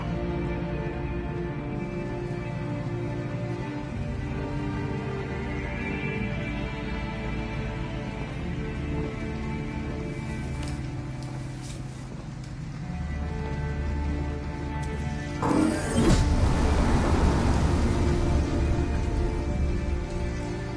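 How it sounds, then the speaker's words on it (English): Pouring rain in the video game Detroit: Become Human falls steadily as a constant wash of drops beneath low ambient tones, swelling louder and closer toward the end. "She's exhausted and it's pouring rain."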